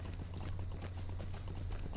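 Horse hooves clip-clop steadily in Lord of the Rings Online near Helm's Deep, a quiet, even gait under a low droning ambience.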